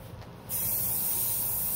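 Aerosol paint sprayed in a long, steady hiss onto a handmade resin clutch purse, starting abruptly after a brief quiet moment and continuing close and loud to the end.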